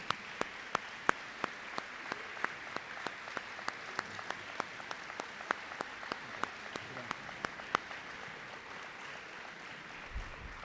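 A small audience gives sparse, scattered applause for student award recipients, with individual hand claps ringing out distinctly over a quiet room and a murmur of talk underneath. The clapping thins out toward the end.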